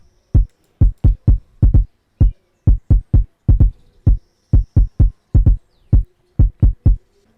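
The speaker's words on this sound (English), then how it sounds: "So the next instrument is the kick." Deep, punchy Afrobeat kick drum hits repeat in a steady pattern of single and doubled beats, dry and loud with nothing else playing.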